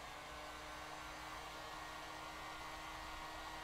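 A steady, loud rush of hot air from a heat gun or dryer blows continuously over clay being leveled while building a two-part mold, with no voices.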